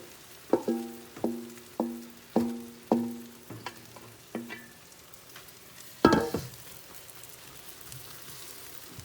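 Matzah brei being stirred in a frying pan, a spoon or spatula scraping and knocking in a steady rhythm of about six strokes over a soft sizzle, with a louder clatter near the end and no talking.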